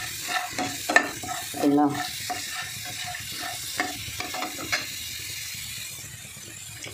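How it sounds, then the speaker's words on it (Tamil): Potatoes frying in oil until golden brown, a continuous sizzle with spoon scrapes and clinks against the pan; a voice briefly speaks over it at the start. "உருளைக்கிழங்கு நல்லா ஃப்ரை ஆகிடுச்சு, கோல்டன் ப்ரௌன் கலரில்"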